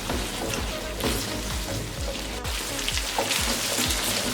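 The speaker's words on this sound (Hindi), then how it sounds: "चनों को भी हमने 2 से 3 मिनट के लिए भून लिया।" Boiled chickpeas fry in a pan with a soft, steady crackle and spatter, broken by a few scraping stirs, fairly quiet throughout.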